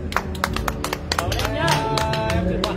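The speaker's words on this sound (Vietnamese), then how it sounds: "Vỗ tay nào." Scattered hand claps from a small gathering at a bonsai club launch night, sharp irregular taps over a busy backdrop of overlapping voices and crowd chatter.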